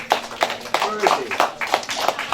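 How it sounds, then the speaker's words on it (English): An audience at a fight club event claps for the boxers, a loose run of applause with uneven, distinct claps, close and fairly loud, with a voice briefly audible underneath. "Round of applause, please."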